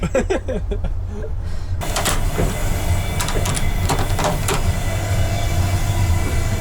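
Loud, continuous rumble of a moving Russian passenger train, with clattering and sharp knocks over the steady roar; a brief muffled voice near the start.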